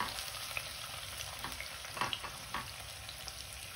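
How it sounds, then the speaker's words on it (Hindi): Chopped onions frying in a pan for a spicy potato and eggplant curry, giving a steady close sizzle with occasional louder crackles and stirring scrapes, no talking. "प्याज को थोड़ा सा फ्राई करेंगे इसके अंदर।"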